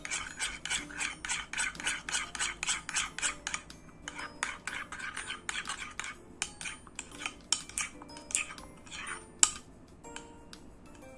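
A utensil stirs baking soda into a bowl of slime activator, making quick, rhythmic scraping strokes that go quieter and more uneven toward the end, with one sharper knock near the close.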